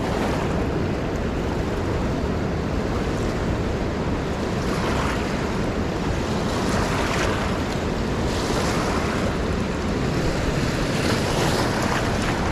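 A raging, fast-flowing river roars with continuous, loud broadband rushing and churning water, steady from start to finish with no voices.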